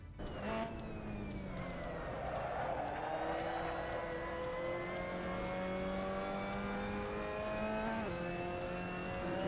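A high-pitched Mazda MX-5 Cup racing engine in Assetto Corsa at the Hungaroring whines steadily and loudly, its pitch rising and shifting through gears, with no talking over it.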